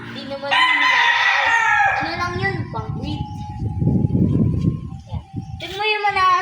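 A bantam rooster crows loudly nearby with some clucking, while people talk over and around it.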